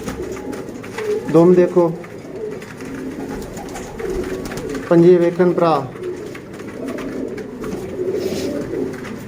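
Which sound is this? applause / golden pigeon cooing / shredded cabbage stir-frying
golden pigeon cooing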